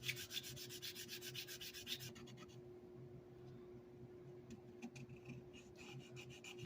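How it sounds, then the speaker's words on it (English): A tool scraping in between the ridges of a starship model's surface to rough it up, with rapid rhythmic rasping strokes that are dense at first, then sparser and quieter, close-up and alone. "If I scrape this in between all the ridges, that'll rough it up a little."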